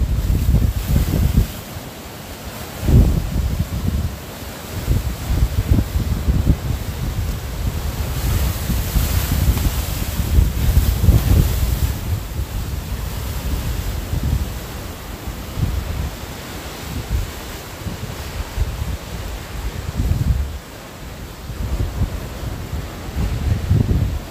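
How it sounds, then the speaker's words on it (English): Strong outdoor wind buffeting the microphone in loud, continuous roaring gusts, with a surf-like rush underneath and no clear voices. "Hopefully you can hear me with all the wind that's going on."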